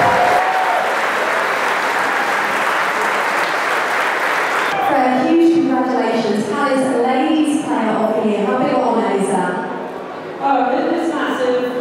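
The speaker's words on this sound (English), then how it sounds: "a round of applause for Freya Holdaway and Dean Davenport" Crowd applause at a Crystal Palace end-of-season awards event at Boxpark, honouring the ladies' player of the season: steady broadband clapping for about five seconds, then continuing under loud speech from a presenter.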